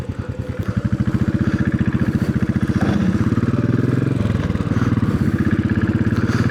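A Royal Enfield Classic 500 single-cylinder motorcycle on the road, its loud, steady thumping exhaust beat pulsing rapidly and evenly, with a slight shift in tone partway through, heard close up without speech.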